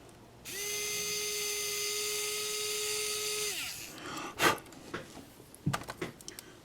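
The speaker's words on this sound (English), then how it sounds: "I'm going to drill just a little hole" A small power drill bores a shallow hole into a Proto2000 GP30 model locomotive shell: a steady high whine for about three seconds, close and loud, then it winds down, followed by a few light handling clicks.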